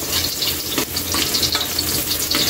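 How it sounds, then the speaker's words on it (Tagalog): Garlic sautéing in a reduced amount of oil in a pan for beef adobo, with a continuous close sizzle and a few stirring scrapes. "magsisimula na tayo sa ating paggigisa. Ilagay na natin yung bawang"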